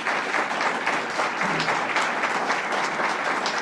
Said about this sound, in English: Let's give a special round of applause to Marilyn Simons.